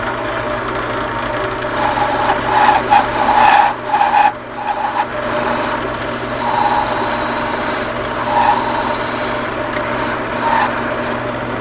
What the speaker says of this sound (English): I'm going to be making planing cuts down the length of this to bring it back into round and true it up.